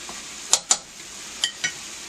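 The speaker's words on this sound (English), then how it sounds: "Just want to give it a little stir." Butternut squash soup being stirred in a pot gives a few light scrapes and clinks of a spoon against the metal, two quick pairs of strokes over a faint background hiss, with no voices.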